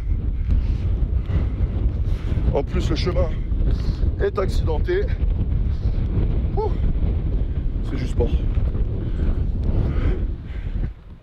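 Strong wind blasts across a steep, rough hillside path, roaring and buffeting the microphone continuously and loudly while someone talks over it.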